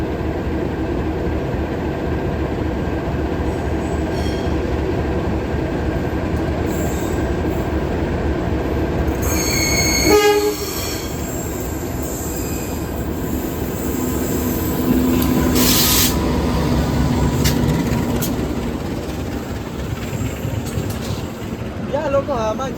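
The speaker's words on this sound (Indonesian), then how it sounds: "masuk kereta api Blambangan Express KA 148 dari Ketapang Banyuwangi menuju ke arah Pasar Senen, masuk di jalur 1 stasiun Pasuruan" The Blambangan Express passenger train rolls into Pasuruan station on track 1, a steady rumble of wheels with screeching brake squeals partway through, and voices talking under it.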